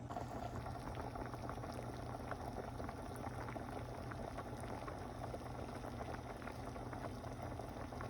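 Pot of water with pasta noodles at a steady rolling boil, a continuous soft bubbling and hissing that stays close and fairly quiet throughout with no talking.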